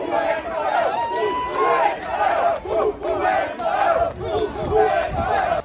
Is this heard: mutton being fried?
no